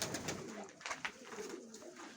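Pigeons coo in soft, repeated low calls amid a noisy outdoor loft of young pigeons, the cooing faint and blended with steady background hiss.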